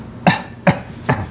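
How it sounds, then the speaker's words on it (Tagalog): Three slow, deliberate coughs from one person, evenly spaced about half a second apart, close and fairly loud, each a short chesty burst. "Or mas maganda, dahan-dahan yung ubo 3 beses."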